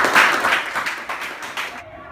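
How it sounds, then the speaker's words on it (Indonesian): Classroom applause from a group of students, a burst of scattered clapping lasting about two seconds before cutting off abruptly. "Oke, mantap, beri aplaus dulu."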